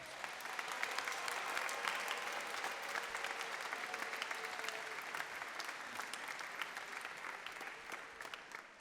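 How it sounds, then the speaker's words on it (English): Crowd at a school graduation ceremony gives sustained, even applause, a dense wash of many hands clapping at moderate distance throughout. "Let's give them another round of applause."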